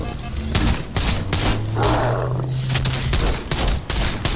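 Halo gunfire crackles in a run of sharp, loud bursts, some in quick clusters, with a low droning tone running beneath for a stretch; no one speaks.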